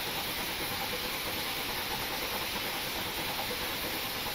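Steady broadband steam hiss from a steam locomotive's injector in Train Simulator Classic, continuous and even throughout with no pauses, close and moderately loud, heard alone without any voices.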